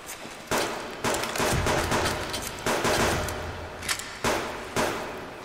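Pistol gunfire in the survival game Subsistence: a series of sharp shots at roughly half-second to one-second intervals, each with a reverberant tail, fairly loud and with no talking.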